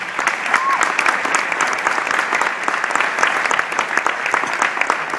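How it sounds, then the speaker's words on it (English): Sustained applause from an audience at an awards event, dense steady clapping throughout at a constant level with no pauses. "How about a round of applause for Sue?"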